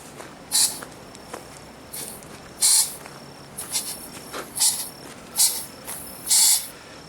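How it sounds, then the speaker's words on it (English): A pump outdoors near the ruins of Ujarrás, Costa Rica, gives off a series of short sharp hissing bursts at irregular intervals, fairly close and clear over a quiet background. "I heard this hissing sound that it was some type of exotic bird or even a snake, and now I can see this is some type of pump"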